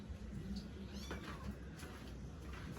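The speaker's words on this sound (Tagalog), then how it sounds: "Ang dami pusa." Several pet cats meow faintly at close range while being fed, with a few short mewing calls over a quiet background and brief clatter.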